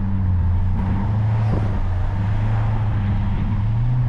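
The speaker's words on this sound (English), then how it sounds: "Listen to this throaty V8, guys." A BMW 750i's V8 petrol engine rumbles steadily from inside the car during city driving, a low continuous drone with no voices over it.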